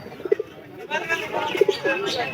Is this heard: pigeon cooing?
yes